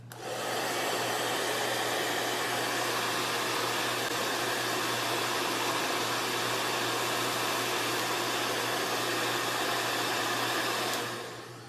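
A hair dryer fitted with a diffuser blows steadily at medium speed and heat, a loud, close, continuous whoosh that starts and stops cleanly and runs alone for about ten seconds.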